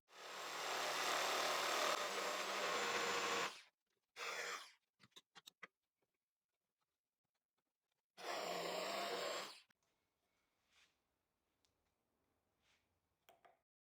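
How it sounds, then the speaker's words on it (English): A jigsaw cuts a piece of wood along a drawn line in a woodshop: two loud, sustained buzzing cuts with a short burst between them, separated by quiet pauses and a few faint knocks. "At these points, I'll finish the cuts with a jigsaw."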